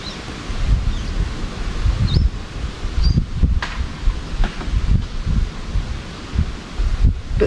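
Buffeting wind roars past while riding a Suzuki GS750 motorcycle through English countryside, a loud continuous rush with gusty low thumps and no talk.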